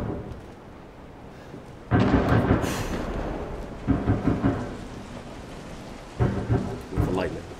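In the video game Resident Evil VII Biohazard, rain patters steadily while heavy thunder rumbles in loud, rolling bursts, several peals close together and then another later.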